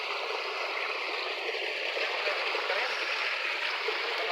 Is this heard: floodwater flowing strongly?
yes